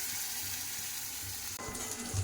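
Cashew, ginger, tomato and green chili paste frying in hot oil, giving a steady close sizzle with a brighter burst of crackling partway through, as if stirred.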